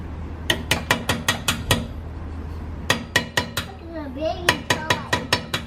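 Sharp metallic hammer strikes punching out a brake caliper pin on a 2018+ Subaru WRX STI, fired in two quick bursts of about six to eight evenly spaced blows each, close and loud, with a short pause between.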